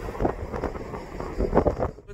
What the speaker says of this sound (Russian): Ну вот этот ветер сумасшедший.